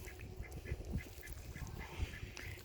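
Several geese honk and gabble in short, repeated calls, fairly faint and a little distant, with soft background noise.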